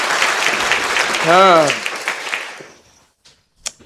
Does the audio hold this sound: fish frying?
no